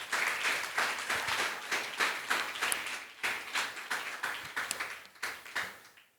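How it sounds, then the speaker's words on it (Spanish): A church congregation at a Sunday service breaks into a sustained round of applause, many hands clapping in dense, uneven bursts across the room with short swells and dips, and no speech over it. "Dale un fuerte aplauso al Señor."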